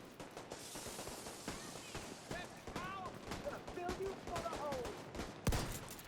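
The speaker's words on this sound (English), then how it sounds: "That was a terrible shot, Stemmer." Gunfire from The Division 2 video game, a steady crackle of shots with a sharp loud burst near the end, under a busy mix of game effects.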